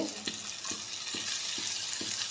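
Potatoes frying in a pan with sago, crushed peanuts and salt being added, a faint steady sizzle with soft, evenly spaced stirring scrapes.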